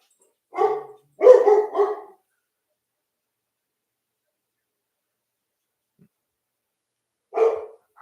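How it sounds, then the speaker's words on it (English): Dogs bark in a quick burst of three or four clear barks, followed by a long silence and then a single further bark, fairly close in an otherwise quiet indoor room. "if you didn't know, that's my dogs."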